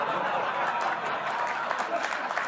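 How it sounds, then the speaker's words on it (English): A studio audience at a late-night comedy news show claps steadily in a dense, even round of applause, with scattered chuckles mixed in throughout. "You're only clapping"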